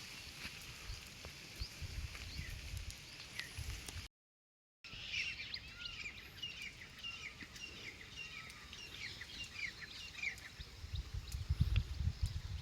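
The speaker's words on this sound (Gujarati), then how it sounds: "તમે જુઓ કે આ બધા પક્ષીઓનો કલરવ ને એવું બધું છે" Birds chirping among mango and chikoo trees in green countryside, faint scattered tweets over a quiet outdoor background with a brief gap.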